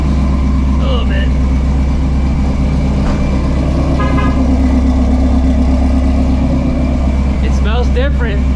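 A supercharged Ford Mustang GT350 running on race fuel idles with a loud, steady, deep rumble throughout, close by, with brief voices and a few chirps heard over it.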